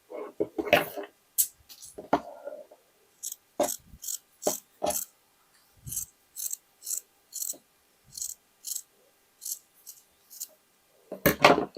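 Scissors snip through old denim jeans fabric for a cuff piece of a patchwork jacket sleeve: a long series of crisp, close, evenly spaced clicks and cuts with a few heavier rustling bursts at the start and end.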